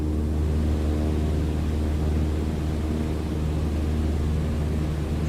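A light airplane's piston engine held at cruise power, 2,300 RPM at 5,500 feet in Microsoft Flight Simulator, drones steadily with a constant low hum and airy noise throughout, unchanging and alone.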